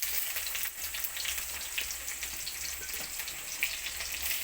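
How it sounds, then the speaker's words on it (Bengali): Chopped onion sizzles steadily in hot oil in a pan with cumin and dried red chilies, a dense, close, continuous frying hiss with no voices. "পেঁয়াজ কুচিটা দিয়ে পেঁয়াজটাকে হালকা ভেজে নেবো"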